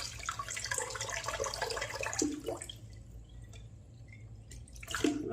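Lukewarm water is poured into a shaving bowl beside a Merkur Bakelite razor, a steady close trickle and splash that fades into a few drips before a brief second pour.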